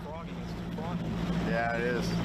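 A bass fishing boat idles slowly out at a tournament, its low, steady motor drone running continuously beneath a commentator's voice.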